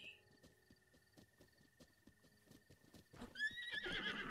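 A horse in a Zelda video game trots with soft, rhythmic clip-clop hooves over a faint steady tone, then lets out a loud, wavering neigh at the end.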